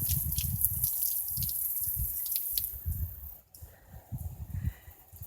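Water from an outdoor off-grid homestead shower splashes and drips as hair is rinsed, a soft irregular patter that is fairly close but quiet, with a brief pause near the end.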